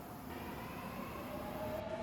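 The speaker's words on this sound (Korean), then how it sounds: "여기는 부산 지하철 2호선 경성대 부경대역이에요." A Busan Metro Line 2 subway train rumbles through Kyungsung Univ–Pukyong Natl Univ station, a steady low rolling drone with a faint rising high-pitched whine near the end, no voices.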